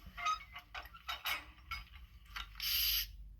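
A series of quick metallic clanks and clicks, ending in a short hiss, like small couplers snapping together at close range; a model locomotive's sound decoder coupling effect.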